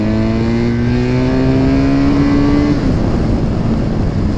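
A BMW engine revs hard and accelerates nearby, a loud sustained drone rising steadily in pitch before easing slightly, with no speech.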